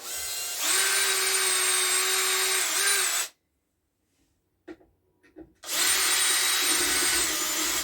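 Power tool cutting steel rebar held in a cutting jig at an underground bunker build site: two loud, sustained, high grinding runs separated by a silent pause broken only by a few faint clanks.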